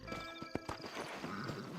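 Horse from the Red Dead Redemption video game, with hoof clip-clops and a short whinny over a steady background bed; a few distinct hoof thuds stand out near the start.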